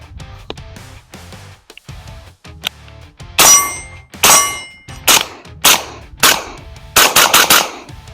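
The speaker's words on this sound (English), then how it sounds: "first shots through the suppressor" Gunshots from a cheap suppressor fired outdoors, some rounds striking steel: about eight sharp, loud cracks in an irregular rhythm, the last few fired in a quick close burst, with no talking.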